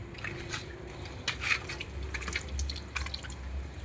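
Water spurting and dripping from a plastic pipe gnawed through by a rat on a rooftop, a steady wet patter of drips and splashes with no talk over it.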